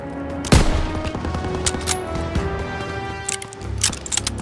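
Gunfire in the World War II shooter Call of Duty WWII: a sharp close shot opens, followed by scattered bursts and distant volleys amid battle noise, with shouting voices.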